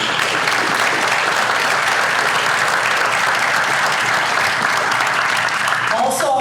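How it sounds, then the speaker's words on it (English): A room full of people at an annual business awards breakfast clapping in a steady, even burst that carries through, with a voice briefly audible as it fades at the close. "You all deserve a round of applause."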